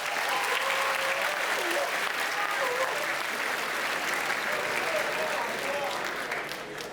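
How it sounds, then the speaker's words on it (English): An audience at an awards night in Malta applauds, with sustained, dense clapping filling the whole stretch and faint voices mixed into the crowd noise before it starts to fade at the end. "Give yourselves a big round of applause."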